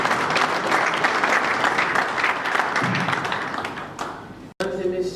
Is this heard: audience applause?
yes